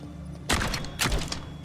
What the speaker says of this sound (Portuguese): Vou dar uns tiros aqui na pedra também